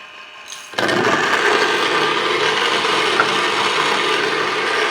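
A Weber Key coffee grinder grinding beans for pour-over: a dense, steady whirring grind that starts abruptly after a brief quiet moment and runs loud and even to the end, with a rough, gritty texture.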